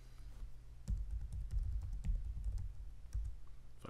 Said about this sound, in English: Just type in truss bridge.